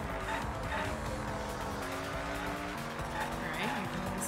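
A car drives along a desert highway in Danganronpa V3, its engine droning steadily with continuous road noise and a brief tire squeal, while a voice talks over it throughout.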